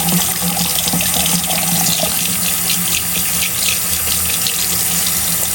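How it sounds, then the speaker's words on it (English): Tap water running over makeup brush bristles in a sink, a steady close hiss and splash of flowing water throughout, with no voices. "So just wet the bristles a little bit"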